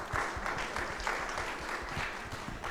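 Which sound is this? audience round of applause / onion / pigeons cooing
audience round of applause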